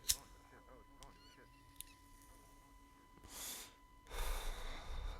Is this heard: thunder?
no